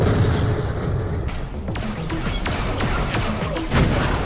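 Rocket blasts and booming impacts from Borderlands: The Pre-Sequel gameplay, a dense rumbling barrage with several sharp bursts spread across the stretch and a heavier boom near the end.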